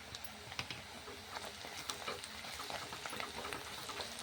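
Tempering with turmeric frying in a pan for mandakki husuli, a steady crackling sizzle with sharp spattering pops scattered throughout, close and fairly quiet with no voices.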